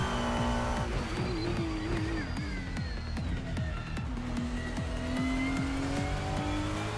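A race car engine in a racing video game revs hard through fifth gear on the Nurburgring, a loud continuous whine with rising pitch sweeps, gear-change dips and tire squeal, with no talk over it.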